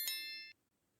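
One bright, clear notification bell ding, a short ringing chime that stops abruptly into silence.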